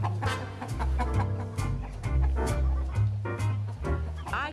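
Chickens on a large flock farm in Ireland, hundreds of birds, cluck and squawk in a busy, continuous chorus with some louder close calls, heard alone without talk.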